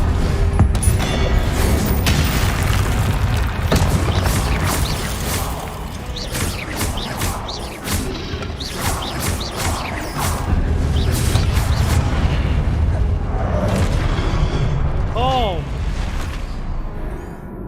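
Confringo and Incendio spells explode in Hogwarts Legacy as repeated loud booms and crashing bursts with clanking game effects, while a voice talks over much of the action.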